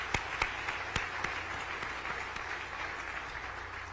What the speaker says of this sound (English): yes, let's clap for that too